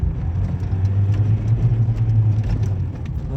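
An Opel Zafira 2.0 engine with a fault that triggers the check-engine light and loses power hums steadily with a low droning tone, rising slightly in pitch as it revs and accelerates, close and fairly loud throughout.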